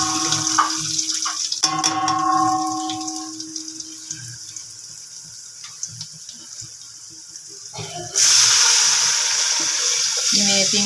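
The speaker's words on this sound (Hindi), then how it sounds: "और 3 गिलास में पानी इसमें ऐड करूँगी।" Water poured into a pot of daal being cooked at home: a steady splashing pour that stops and restarts, mixed with small kitchen clatter and a brief background voice.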